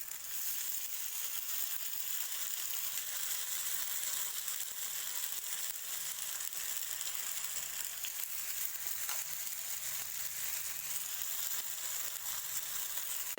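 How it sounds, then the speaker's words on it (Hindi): Sprout chilla batter frying in a pan, a steady broadband sizzle with faint crackles, close and even throughout with no talking. "इसको हमें गोल्डन ब्राउन सेकना है दोनों साइड से"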